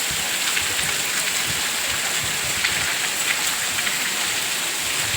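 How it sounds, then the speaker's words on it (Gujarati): Heavy steady rain falls during a downpour, a dense continuous hiss of drops striking surfaces that stays loud and even from start to finish, with no voices. "એટલો એક જ ધારો વરસાદ"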